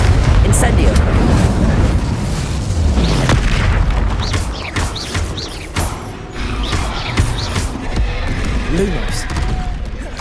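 Confringo blasting spells go off in Hogwarts Legacy, several loud booming explosions spaced through the fight amid whooshing spell effects and combat noise, with a voice speaking between them.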